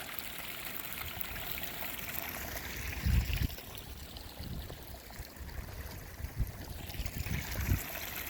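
A small shale-bedded mountain stream in the Catskills trickles and splashes steadily, close and constant, with a few louder gurgles and no voices.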